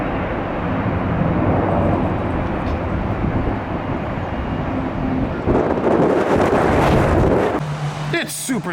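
Strong, gusty wind buffets an airport during a microburst with 30-knot gusts, a steady loud roar of wind noise across the whole span with a brief swell near the end.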